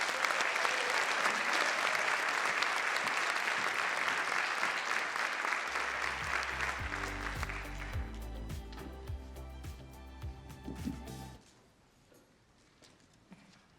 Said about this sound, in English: Let's give the incredible students of Newton County Schools a round of applause.